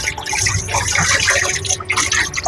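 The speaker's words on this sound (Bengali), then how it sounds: "চালটাকে ভালো করে ধুয়ে রাখছি।" Gobindobhog rice being washed in water, a continuous close splashing and sloshing with drips and swirling liquid, fairly loud and unbroken.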